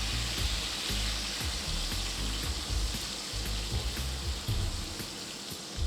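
Roughly chopped onions frying in a pan, a steady close sizzle that holds for about six seconds with low soft knocks underneath.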